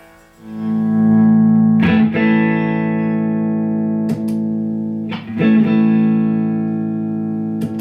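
An electric guitar loop plays sustained, droning chords through a Bogner Ecstasy Blue overdrive pedal, loud and steady, with periodic re-struck chords and small clicks as settings are adjusted.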